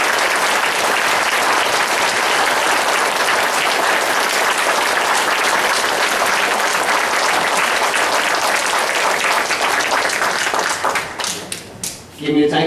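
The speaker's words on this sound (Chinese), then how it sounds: "请咱用热烈的掌声来鼓励" Warm, sustained applause from a church congregation after a choir performance at an Easter service, a dense wash of many hands clapping for about eleven seconds before thinning out into scattered claps.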